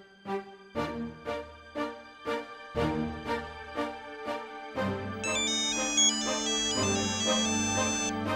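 A phone ringtone plays a repeating melodic chime in rhythmic bursts, then swells into a fuller, louder musical pattern with layered high tones, with no talk over it.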